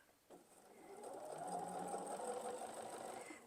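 A sewing machine stitching binding onto a quilt: the motor starts up and runs in a steady, fast, even whir of stitches, close and fairly quiet, easing off slightly at the end.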